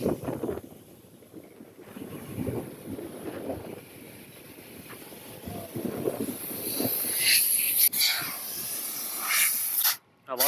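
Air hisses steadily out of a car tyre being deflated before a desert safari, outdoors with wind noise, a sustained high hiss that grows louder in the latter half, with background voices and movement earlier.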